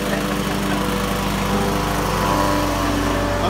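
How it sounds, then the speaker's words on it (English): A lawn mower runs outdoors with a steady, loud, continuous engine drone and no pauses or voices. "I'm cooking and my wife is mowing."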